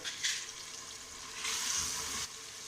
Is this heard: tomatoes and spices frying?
yes